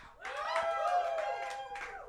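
Comedy show audience at a late-night stand-up event cheering and clapping, a dense burst of applause and whoops from a crowd that swells quickly and holds steady for about two seconds.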